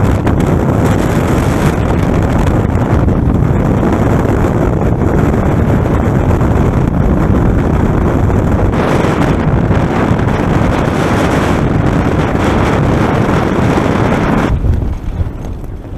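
Strong wind near Denali Pass on Denali, Alaska, gusting around 150 km/h, batters the microphone in a loud, unbroken roar that barely lets up before easing slightly at the very end.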